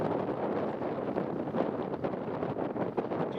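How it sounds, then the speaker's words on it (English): Steady gusty wind buffets the microphone at an airport viewing spot beside the runway at Newcastle Airport, a continuous broadband rumble with fluctuating intensity and no voices. "It is windy, yes, it's quite breezy today"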